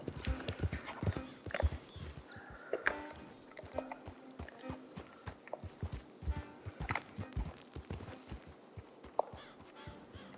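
A horse in a video game steps along with irregular hoof clip-clops, close and moderately loud, mixed with snorts and small chewing-like noises and a brief whinny.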